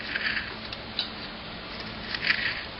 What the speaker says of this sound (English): Take my trusty and fairly sharp exacto and start cutting.